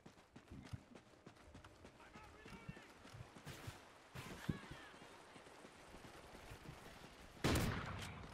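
Sniper rifle shots in the video game Call of Duty: Ghosts, several sharp cracks in a busy match mix with running footsteps, ending in one loud nearby blast.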